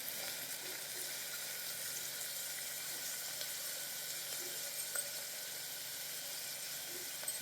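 Chopped onions and green chillies fry in a pan, giving a steady, soft, hissing sizzle that stays even throughout with no talk.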